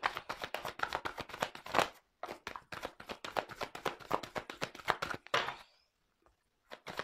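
Tarot cards shuffled by hand for a reading: fast, close, rhythmic riffling taps in two long runs separated by a short pause, then quiet.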